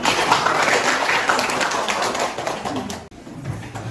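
A class gives a brief round of applause for group 1, with rapid, dense clapping that cuts off sharply near the end, leaving faint room noise.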